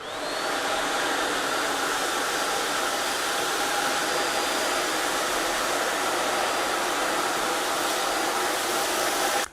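Xiaomi Deerma DX800s stick vacuum cleaner running continuously at close range, a steady loud whooshing motor roar on its first cleaning pass, with no talk.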